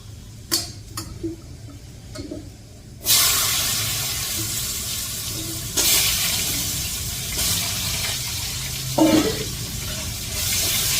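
Potatoes and cumin seeds fry in hot oil in a home kitchen pan, a loud steady sizzle that swells after a few soft clinks and stays up with small stirring bumps throughout.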